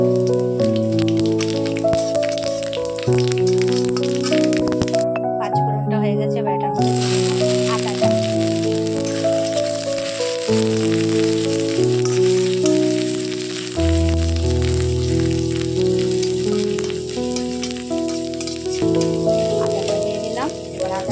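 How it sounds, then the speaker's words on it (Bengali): Panch phoron spices frying in hot oil, a steady close sizzle with crackle and rattle that persists under a spoken voice and continuous background music. "তেলটা গরম হয়ে গেছে তেলের মধ্যে দিয়ে দিলাম পাঁচ ফোড়নটা"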